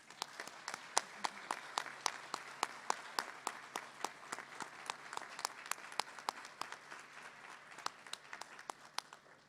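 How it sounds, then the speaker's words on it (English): Audience applause for graduates at a doctoral hooding ceremony, a steady wash of many hands clapping with sharp individual claps standing out, moderately distant and sustained throughout. "If you would please join me in giving all of our graduates a round of applause."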